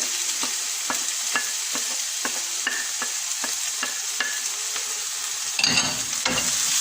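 Chopped big onion fries on high heat in a pan with a constant bright sizzle, while a ladle scrapes and taps in quick regular strokes, ending in a burst of busier stirring.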